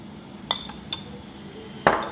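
Metal utensil clinks against a bowl while salted vegetables are stirred for Indonesian sayur ketupat, three separate close taps spaced apart over quiet kitchen background.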